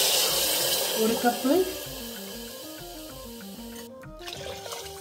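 Water is poured from a cup into a bronze pot while cooking traditional rice upma, a brief splashing gush near the start that fades into a low simmer, with someone talking over it.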